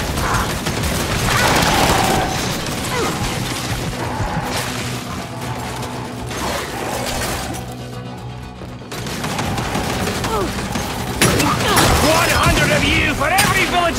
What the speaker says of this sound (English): Throwing frags!